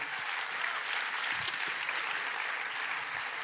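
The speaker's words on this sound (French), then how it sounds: "Beaucoup d'applaudissements pour Sigma." Steady, dense applause from the audience at a French talent-competition final in Vendée, sustained at an even level and heard alone without talk.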